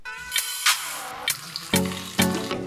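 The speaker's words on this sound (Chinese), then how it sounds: "先清洗米" Tap water running while rice is washed at a kitchen sink, a splashing stream broken by several sharp bursts and clatters, close and alone.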